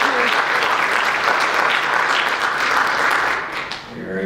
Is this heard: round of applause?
yes